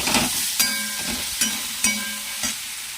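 Onion and garlic sizzling in hot oil, a continuous crackling fry broken by four or five distinct scrapes and taps of a stirring spoon.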